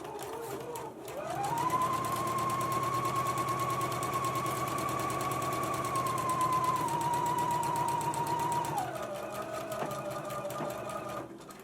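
A sewing machine stitches a sleeve band seam at a 5/8 inch allowance, motor spinning up quickly and humming steadily for several seconds before slowing, close with no voices.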